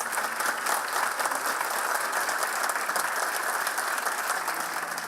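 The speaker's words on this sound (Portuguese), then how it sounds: "A cada autor pronunciado, uma salva de palmas" Sustained audience applause fills a room at a book launch, a dense, steady wash of many hands clapping at full strength throughout, with no voices standing out.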